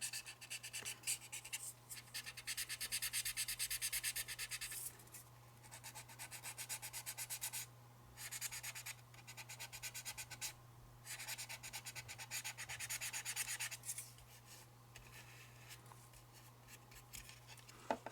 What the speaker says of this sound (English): Now you're really not seeing anything because all I'm doing is sanding.